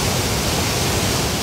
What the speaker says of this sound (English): At Barron Falls, the water is raging.